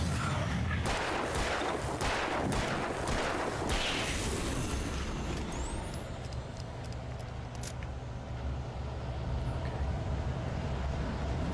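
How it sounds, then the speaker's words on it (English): A flashbang goes off in the video game Alan Wake: a dense crackling, rumbling burst of noise dies away into a steady hiss, followed by thin, high ringing tones. "I didn't want to use my last flashbang, but I had to."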